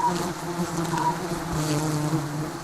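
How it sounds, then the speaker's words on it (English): Close, dense buzzing of many bees disoriented by smoke, a continuous droning hum that wavers slightly in pitch throughout. "Bees get disorientated with smoke."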